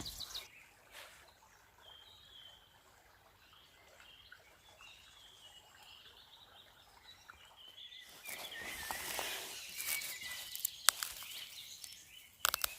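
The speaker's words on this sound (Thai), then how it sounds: "ก็ฟังเสียงนกไปเนาะ" Birds sing and chirp faintly in the evening outdoors at a fern-picking spot, scattered calls over quiet ambience, followed by nearer rustling and trickling sounds.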